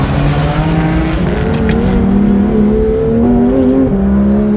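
A 2019 Porsche 911 GT3 RS driven hard through bends, its engine droning loud and close with rising and falling pitch as it accelerates out of corners, with faint tire noise and no talk.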